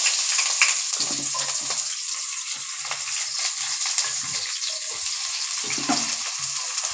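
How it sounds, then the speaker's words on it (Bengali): Chopped onion, tomato and green chilli frying together in hot oil, a bright continuous hiss close by, with brief low knocks and stirring sounds, no voices. "এবার আমি তেলের ওপর দিয়ে দিচ্ছি পেঁয়াজ কুচি। দেখো, পেঁয়াজ কুচি, টমেটো কুচি, লঙ্কা সব একসঙ্গে আমি দিয়ে দিচ্ছি তেলের ওপরে।"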